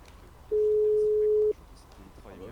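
A telephone tone sounds in a GTA game during a Los Santos gang tour, one steady beep lasting about a second over faint background noise, with voices afterward.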